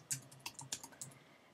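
Faint, quick taps of typing on a Mac computer keyboard, a short burst of about half a dozen soft clicks in a quiet room.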